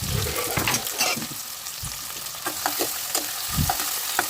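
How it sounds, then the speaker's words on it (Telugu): Chilies and then onions frying in oil in a pan for a pressure-cooker chicken curry, a steady crackling sizzle with occasional stirring scrapes and utensil knocks, close and moderately loud, no talking. "కొంచెం ఫ్రై అయిన తర్వాత కట్ చేసి ఉంచుకున్న ఉల్లిపాయలను అయితే మనం అందులో వేసుకోవాలి"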